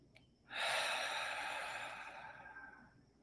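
A single long, deep breath during a guided meditation, a soft airy rush that starts abruptly and slowly fades over a few seconds, close and quiet.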